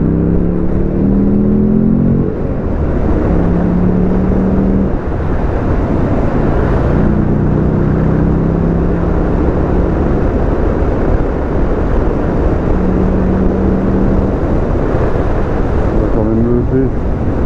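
A Buell motorcycle engine pulls hard through rising revs to overtake on the Carvin bypass, its droning tone climbing in steps under heavy, constant wind rush at the microphone.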